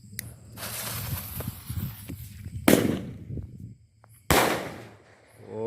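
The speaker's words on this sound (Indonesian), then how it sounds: "Ini Roman candle bijian yang melesat ke atas." A large Roman candle firework shoots upward at night. Sharp, loud pops burst out one at a time with hissing between them, two of them standing out strongly.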